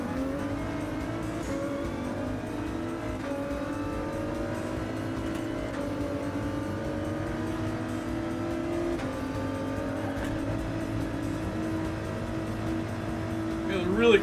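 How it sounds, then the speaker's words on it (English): Racing video game car engines roaring steadily at close range through a busy race, with a rival car ramming from behind, possible tire squeal, and a louder bump near the end; someone talks over it. "Car behind smashing me."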